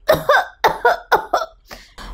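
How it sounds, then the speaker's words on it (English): A person with guava seeds stuck in the throat coughs repeatedly at close range, about eight sharp rasping coughs in quick pairs, loud and harsh, with no talking. "The seeds of the guava got stuck in his throat, so he was coughing."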